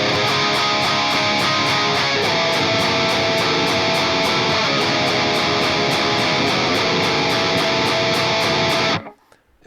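Heavy distorted metal rhythm guitar through a TONEX ENGL rhythm preset, dense palm-muted chugging with steady even picking, loud and continuous alone before cutting off sharply near the end.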